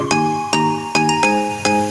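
A phone ringtone heard during an outgoing call: five bright, bell-like melodic chimes with sharp attacks, about every 0.4 seconds, loud and close, with no talking.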